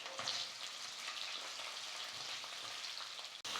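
Chopped onions and curry leaves sautéing in oil for a fish curry, a faint, even sizzle with soft stirring bumps and a brief dropout near the end, with no voices.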